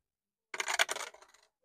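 A six-sided die rolled onto a hard surface: one short burst of clattering tumbles that quickly fade into a few small rattles, close and alone.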